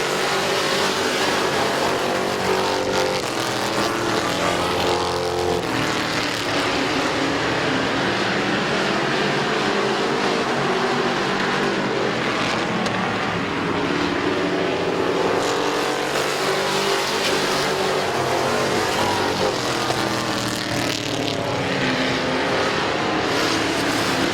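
Race cars roaring around the oval at Midvale Speedway, a dense, continuous engine drone that swells and fades as the pack circles, loud and unbroken for the whole stretch.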